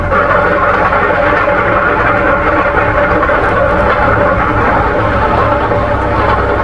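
A Wehrmacht Kübelwagen Type 82 adapted to run on railway tracks rolls through a curve, giving a steady, loud rumble of wheels on rail with engine drone throughout, no talking.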